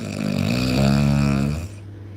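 A voice imitates snoring, a loud, close, rumbling drawn-out snort that swells and then fades.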